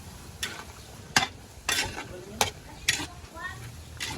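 Fishballs frying in a pan with onions stuck to them, a steady low sizzle broken by several sharp scraping stirs at irregular intervals, close by with no talk.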